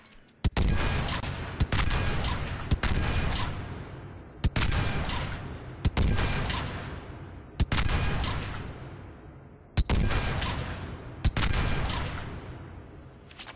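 Saber rifle in Mass Effect 3 firing single heavy shots at a target range, about nine loud cracks with long booming tails, spaced roughly a second or more apart in an uneven rhythm.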